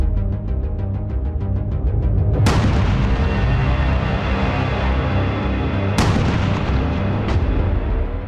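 A Chinese coil gun test-firing, with two heavy, sharp blasts a few seconds apart and a third lighter crack, each over a continuous loud, dense rumble that fills the whole stretch.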